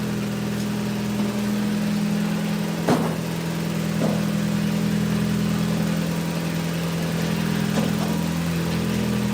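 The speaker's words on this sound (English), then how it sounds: "I'm gonna turn this blower on to blow outside." A steady, droning hum from a running blower pushing air outside, with a constant low tone holding through and a few faint knocks and clicks over the top, no one speaking.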